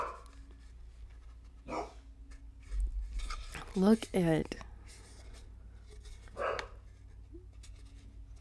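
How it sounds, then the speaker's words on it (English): A dog barks a few times indoors during an unboxing, a short cluster of yelping barks at mid distance with someone talking over and around them. "Sorry about the barking."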